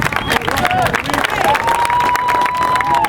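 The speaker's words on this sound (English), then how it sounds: "Give a round of applause." Crowd applause at an outdoor protest gathering in Buffalo, a sustained dense clatter of many hands with some cheering and whistles, loud and close, mixed with voices.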